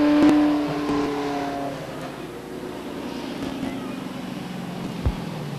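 Race cars at Beech Ridge Motor Speedway coast down after a heat, with engine tones sliding lower as they ease off. The drone is steady and moderately loud, with a brief knock near the end and no talk.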